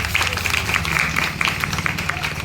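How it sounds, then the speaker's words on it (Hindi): Guests at a Tulsi Vivah ceremony clap together in a steady, dense patter of hands, with voices and chatter mixed underneath. "चलिए ताली बजा दीजिए सब लोग।"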